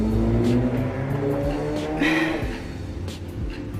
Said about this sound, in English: I hate the cars outside my window. They're so loud.